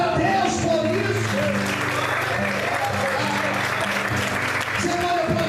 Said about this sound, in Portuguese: Em nome de Jesus, você pode aplaudir e exaltar a Deus por isso.